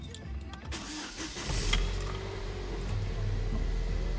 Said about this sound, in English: So we're going to go ahead and fire her up.